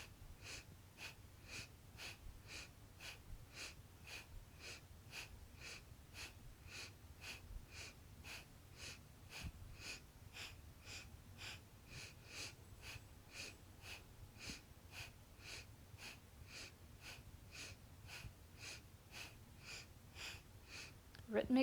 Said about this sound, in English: Rhythmic breathing.